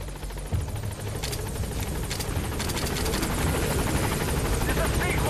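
Helicopter arriving at a landing zone in the video game Metal Gear Solid V: The Phantom Pain, a loud continuous rotor chop and turbine roar that builds steadily and stays close throughout.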